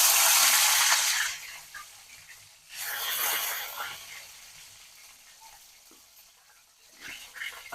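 Onion and garlic go into hot oil in a home kitchen, giving bursts of loud hissing sizzle that swell, fade and return, with a quieter steady crackle between them.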